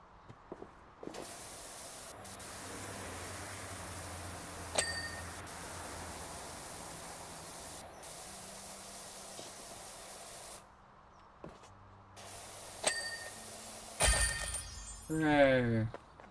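Spraying from a power washer in PowerWash Simulator 2, a steady hissing jet that runs for long stretches, cuts out briefly and resumes, with a couple of bright ding chimes and a few clanks, while a person talks over it.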